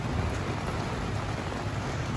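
Steady rain during a walk in a seaside resort town on Mallorca, a dense continuous hiss of drops with a low rumble underneath, close and even throughout.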